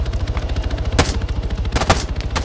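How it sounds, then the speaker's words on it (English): Rapid gunfire from the ArmA 3 video game rattles in a steady automatic stream, with a few sharper, louder shots cracking through near the start and end, no voices over it. "Hey, you're getting shot at down the road."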